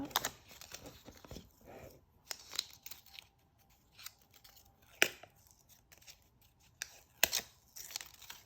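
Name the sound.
peeling adhesive backing off a door hanger stencil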